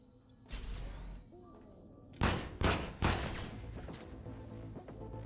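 Turret gunfire in the sci-fi shooter Void Bastards comes as several loud, abrupt bursts, a longer volley and then three quick sharp blasts, over a low game ambience.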